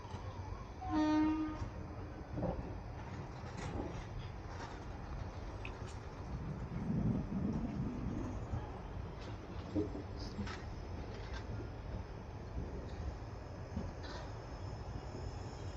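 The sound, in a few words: train shunting at Jalna railway station platform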